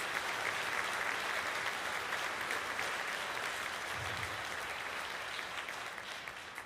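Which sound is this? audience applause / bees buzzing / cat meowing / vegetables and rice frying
audience applause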